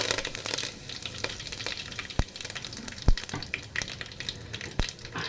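Curry leaves dropped into hot oil already crackling with mustard seeds and cumin, for a village-style misal: a steady close sizzle and frying hiss with a few sharp pops and spatters, no voices.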